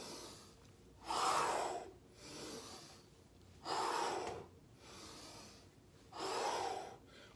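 Three forceful breaths, each a loud exhale with a slight gasp, come at steady intervals during a thruster exercise with resistance bands, alone with quiet pauses between.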